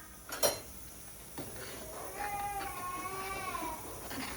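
A spoon clinks a few times against a cooking pot while wadi dumplings are stirred into dal, faint and sparse, with a soft whining tone in the background.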